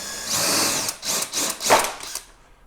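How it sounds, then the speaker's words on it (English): A power drill fitted with an 11/64 bit bores out plastic retaining clips on a Toyota 4Runner Limited rocker panel, giving several short, close whirring bursts separated by brief pauses. "what we'll do is we'll just drill those out with that drill bit"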